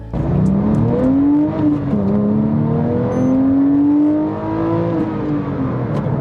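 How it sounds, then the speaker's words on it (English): A 2007 Porsche 911 GT3 is heard from close range while being driven, its flat-six engine and exhaust rising and falling in pitch as it accelerates and shifts, kept below 7,000 rpm, with no talking. "you can hear the exhaust, the engine note"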